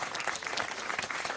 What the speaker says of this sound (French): Maxime Lafleur, que je vous demande d'applaudir.